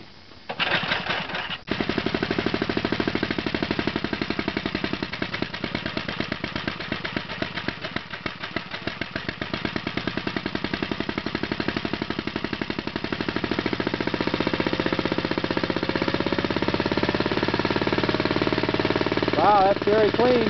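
A generator engine fitted with a GEET modified carburetor runs with no load, giving a loud, rapid, steady chugging that holds for the whole stretch after a short sputter at the start, with people talking over it.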